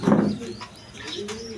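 Pigeons coo softly while a parent pigeon feeds its chicks, a short close burst of cooing followed by a few quieter calls.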